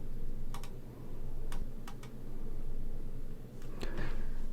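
Sparse keystrokes tap on a computer keyboard as an Excel function is typed, a few scattered clicks over a steady low hum of room noise.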